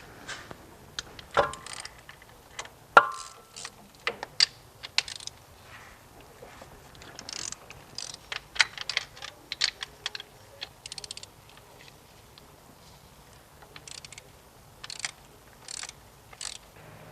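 A socket wrench loosens 13mm bolts and a nut on the shifter cable bracket of an MK7 Volkswagen GTI, producing quiet rapid ratcheting clicks in irregular bursts with a few sharper metallic taps.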